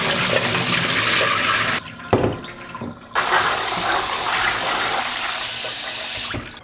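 Soaked soybeans being rinsed under running water in a kitchen sink, a steady loud rush of water with a short pause midway, then the flow resuming.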